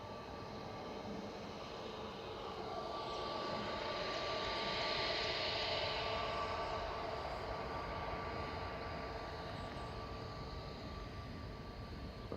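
A Malta Air Boeing 737-800 arrives at Manchester Airport with a steady jet engine roar heard from a distance. The sound slowly swells toward the middle and then fades again, with no talk.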